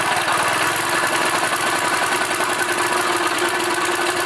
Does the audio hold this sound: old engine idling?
yes